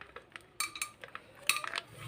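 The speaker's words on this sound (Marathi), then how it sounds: "आता आपण यामध्ये कॉर्न टाकूया." Dry popcorn kernels poured into a heated pressure cooker on a gas stove, sparse sharp rattles and clinks of hard grains striking metal in a few quick bursts, close and fairly quiet.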